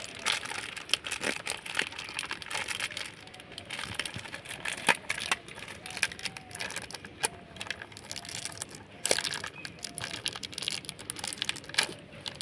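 A plastic bag filled with batter for net-style jali pitha is twisted and tied tight, giving close, steady crinkling and crushing with small sharp crackles throughout, alone with no talk.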